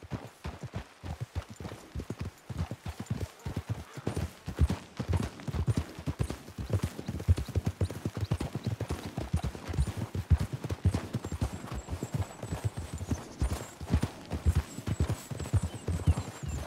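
Rapid hoofbeats of several horses galloping steadily and close in Red Dead Redemption 2, a dense, continuous clatter with a faint high tone drifting in later.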